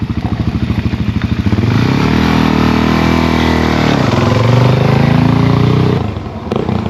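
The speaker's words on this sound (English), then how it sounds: "It's a pretty big bike, 400. 4-stroke enduro." A 400cc four-stroke enduro motorcycle engine runs close and loud on a Toronto evening street, with a steady throbbing idle that swells briefly and then eases off.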